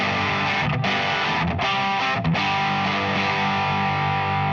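An electric guitar runs through a Demonfx AT DS overdrive pedal, a clone of the JHS Andy Timmons AT+, at fairly high gain, giving a loud, continuous, distorted sustained tone with a few brief dips between chords.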